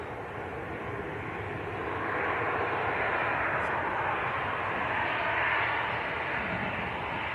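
A jet airliner's engines roar steadily through a takeoff roll at Manchester Airport, a broad, continuous rumble heard from a distance that swells slightly midway and holds loud to the end.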